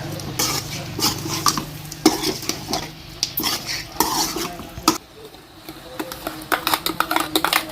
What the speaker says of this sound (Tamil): இப்போ வந்து இதை கொஞ்சம் நல்லா வதங்கணும்